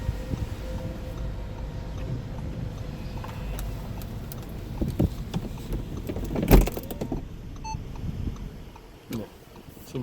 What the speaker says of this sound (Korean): 지금 이렇게 주행 중에 루프가 닫히는 걸 보셨고요